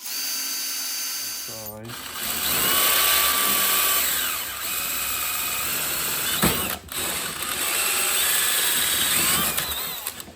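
A power drill whirs steadily at close range while working on the bent pushrods of a John Deere LA130 lawn tractor. A brief ratcheting buzz comes as it starts, and there is a short pause midway with one quick spoken word.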